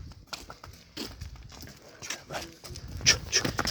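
A foal's hooves clop irregularly on the ground near a horse sale, a few light knocks sounding under background voices.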